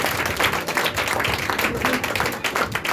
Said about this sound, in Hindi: तो जोरदार हम यीशु के लिए ताली बजाएं।